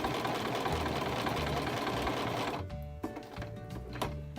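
A sewing machine runs a straight stitch on paper, whirring steadily and loudly for a few seconds before slowing to a halt, followed by a few scattered mechanical clicks.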